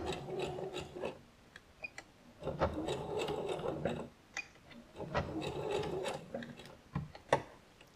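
A sewing machine stitches through terry towel fabric in several short runs separated by brief pauses, its mechanical whirring and clatter close and moderately loud, ending with quick back-and-forth stitching.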